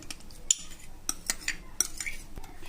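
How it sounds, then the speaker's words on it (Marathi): A spoon stirs yogurt in a small bowl, a few light clinks against the sides mixed with soft wet scraping, close and quiet, with no talk. "दहीला चांगलं आपण एकत्र मिक्स करून घेऊयात।"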